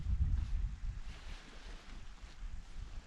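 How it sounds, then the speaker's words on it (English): Cold north wind gusting across the Torridon hills near Loch Maree, a heavy low rumble buffeting the microphone, strongest at the start and then easing to a steady roar. "That wind's coming straight out of the north today."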